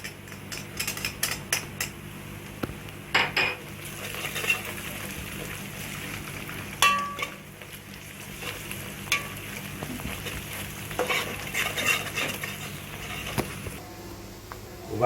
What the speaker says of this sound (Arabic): ونكمل كده تقليب في البصل اللي ابتدى يغمق